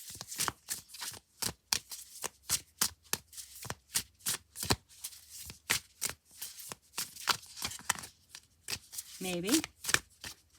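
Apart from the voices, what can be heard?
shuffling tarot cards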